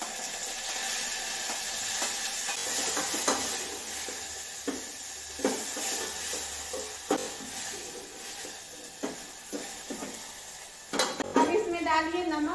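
Onion, tomato and coriander leaves fry in a pan after garlic and green chillies, with sizzling and repeated scraping stir strokes against the pan, then a louder clatter and hiss near the end.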